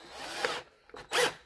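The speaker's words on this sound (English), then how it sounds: "I've got my drill on there. Got my valve grinding compound on my seat." A handheld drill spins an engine valve against its seat with grinding compound, giving a short raspy whir that stops, followed by a brief scraping grind, close and alone.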